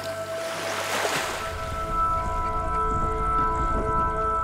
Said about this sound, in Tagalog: Lakas pa naman ang agos.